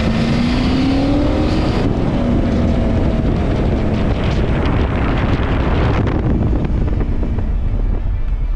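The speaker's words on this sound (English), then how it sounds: "listening to the rumble and the sounds of these V8 engines roar through the valley" V8 Aussie muscle cars rumbling along a winding valley road on the Great Ocean Road run, a loud continuous engine roar heavily buffeted by wind noise, with gear changes audible through the din.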